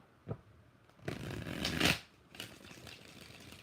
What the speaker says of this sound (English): 3 shuffles for Chantel.